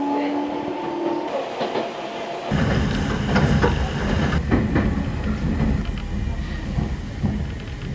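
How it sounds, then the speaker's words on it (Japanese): A Toyohashi Railway Atsumi Line train runs along the track toward Mikawa-Tahara, heard from onboard as a loud, steady rumble with rhythmic wheel clatter and rattling, after a brief quieter start. "まずは豊橋鉄道厚木線に乗車し、厚木半島を進んでいきます。"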